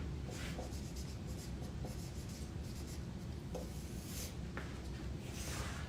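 A pen scratching on paper as notes are written during a live motivational talk, a continuous soft scribbling with light taps and strokes, close and steady, under a faint background hum.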